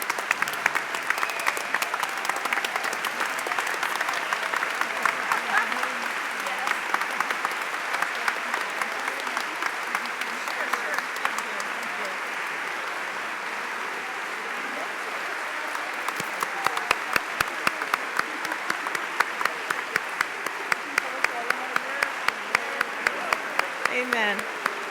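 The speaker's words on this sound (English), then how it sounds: "I think we get to clap for this one" A church assembly audience at a worship and decision session claps continuously for about 25 seconds, a broad steady wash of applause that swells again near the end, with some voices mingled in.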